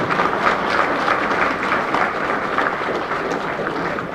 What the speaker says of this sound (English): So big round of applause to everyone in this room.